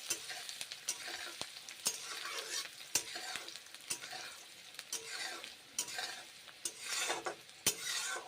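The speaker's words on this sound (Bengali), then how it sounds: "এবারে পেঁয়াজগুলো তাই গরম তেলে ছেড়ে দিলাম, পেঁয়াজগুলো ভেজে নেব।" Sliced onions fry in hot oil for an okra curry, giving a steady close sizzle punctuated by sharp clicks and scrapes of a spatula stirring in the pan.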